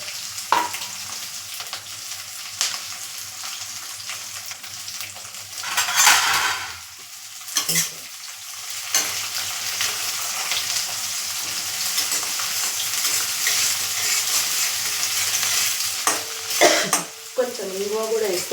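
Onion and dried red chillies fry in oil in a pan, a continuous close sizzle with bursts of louder spitting and scraping clatter as they are stirred.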